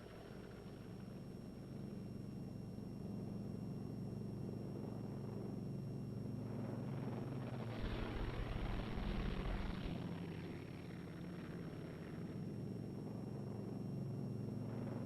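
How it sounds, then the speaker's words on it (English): World War II P-47 Thunderbolt fighters come in to land, producing a broad, continuous engine drone and rumble that swells toward the middle of the pass and then eases. "Pace the plane 20 seconds apart for landing."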